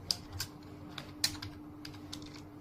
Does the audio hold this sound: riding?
no